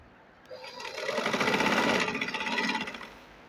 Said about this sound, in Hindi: अब मैं इस पे आपको सिलाई लगा कर दिखाऊंगी